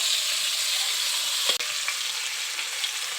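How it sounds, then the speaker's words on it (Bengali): Pointed gourds (potol) fry in oil on both sides, making a continuous crackling sizzle broken by one sharp clack of a utensil on the pan partway through. "দুই সাইড ভালো করে একটু ভেজে নেব।"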